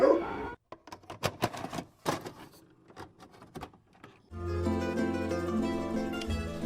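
Dogs yip and whimper in short, sharp bursts, close and fairly quiet, scattered irregularly over several seconds. Music then swells in beneath them.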